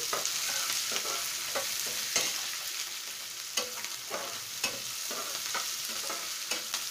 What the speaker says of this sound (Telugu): ఉల్లిపాయ పచ్చిమిర్చి వేగిపోయినాయి కదా ఎక్కువ వేగితే మళ్ళీ మాడిపోతాయి